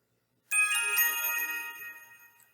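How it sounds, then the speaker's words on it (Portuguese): A customer-service software notification bell sounds once after a moment of silence, with a bright electronic chime that strikes sharply and rings out, then slowly decays over about two seconds. "essa campainha fica a cada 15 segundos pedindo minha atenção"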